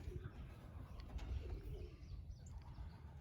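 Pigeons in a loft coo softly with a few scattered chirps, faint and low over a steady background hum, with no voices.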